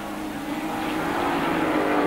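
A 3.5 litre six-cylinder fuel-injected BMW touring car racing at a 1985 ATCC round, its engine a loud, steady drone that builds slightly over two seconds with no speech.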